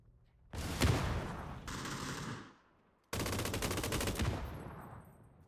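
Bursts of automatic gunfire in the battle royale game PUBG: two rapid, sustained volleys, the first easing into a quieter crackle before a short gap, then a second loud, dense burst that trails off.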